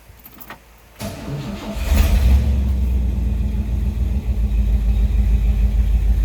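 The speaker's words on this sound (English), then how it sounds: "Here the car starts very easily." A 1957 Oldsmobile 88 Holiday engine cranks briefly, then catches easily and settles into a steady, deep rumbling idle that carries on to the end.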